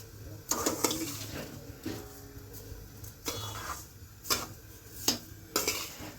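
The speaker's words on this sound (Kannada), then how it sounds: "ಚೆನ್ನಾಗಿ ಇದನ್ನು ಕೈ ಆಡಿಸ್ತಾ ಇರಬೇಕು." Mysore pak mixture being stirred in a pan on a gas flame, with repeated metallic scrapes and clinks of a spoon against the pan at an uneven rhythm, close by, beneath a low kitchen hum.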